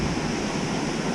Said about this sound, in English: Pretty river shot